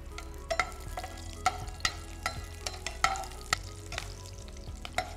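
Green chillies go into hot oil already holding cardamom, giving a soft continuous sizzle under a low hum, with a string of sharp ladle clicks and scrapes against the pan at an irregular pace, close and fairly quiet.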